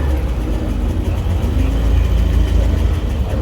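An MGB sports car engine rumbles steadily at low speed as it drives onto a car show field at Hershey, loud and close, with no talk.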